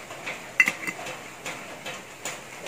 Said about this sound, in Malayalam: എന്നിട്ട് ഇത് നല്ലപോലെ ഒന്ന് ഇളക്കി കൊടുക്കാം